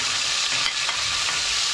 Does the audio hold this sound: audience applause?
no